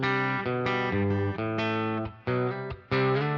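A Jet 300 electric guitar played through a Blackstar amplifier with the Wampler Euphoria pedal switched off: a few sustained, harmonically rich notes plucked in sequence, loud and close with brief gaps between them.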